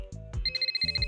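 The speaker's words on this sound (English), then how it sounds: "The phone rings again." A phone ringtone from the Zenless Zone Zero video game plays as a quick electronic melody with bright, repeating beeping tones. It is clear and close, with no talking.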